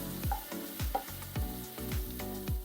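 Garlic and ginger sauté in a pan for an egg butter masala, giving a steady hiss of frying under a recurring deep, rhythmic musical beat.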